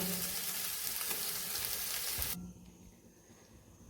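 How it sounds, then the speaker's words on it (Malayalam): Beef fry sizzles in coconut oil with a loud, dense crackling hiss close up, then drops off suddenly to quiet. "കുറച്ചും കൂടെ വെളിച്ചെണ്ണ ഒഴിച്ച് ഇനിച്ചൂടെ ഫ്രൈ ആകാൻ വേണ്ടിയുള്ള സമയം കൊടുക്കാം"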